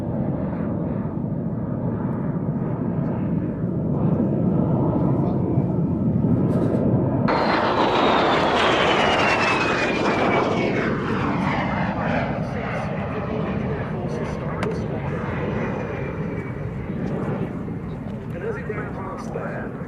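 De Havilland Vampire jet at an air show, a loud continuous roar rising into a whining pass partway through, with a falling pitch as it flies by and people talking underneath.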